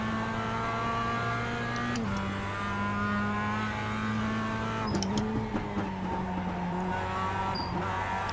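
Mazda MX-5 Cup race car in the iRacing sim at Summit Point Raceway's Jefferson Circuit, its engine droning steadily with shifting pitch as it lifts and reapplies throttle, with brief tire squeal and skidding through corners.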